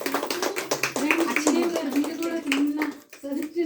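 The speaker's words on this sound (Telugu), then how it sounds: "క్లాప్స్." Applause at a kindergarten opening event: a crowd claps in rapid, uneven bursts nearby, mixed with children's voices and chatter throughout.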